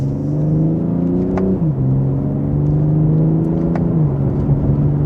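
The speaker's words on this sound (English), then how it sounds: "that's just a minor acceleration for this new vehicle" A 382-horsepower 2026 BMW M240i engine revs steadily and loudly in Sport Plus, its pitch climbing, dropping briefly at a gear change, then climbing again, heard from close inside.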